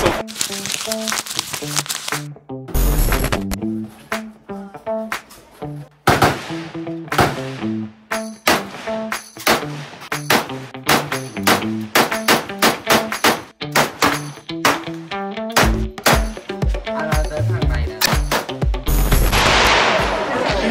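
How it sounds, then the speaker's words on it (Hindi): AK-47 rifle fired at a shooting range near the Cu Chi Tunnels, a long run of loud close single shots and quick bursts with short pauses between. "AK-47 चलाई।"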